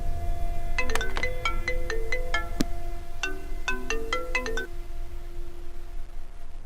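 A mobile phone ringtone plays two bursts of bright, repeating melodic tones, loud and clear, with no talking over it.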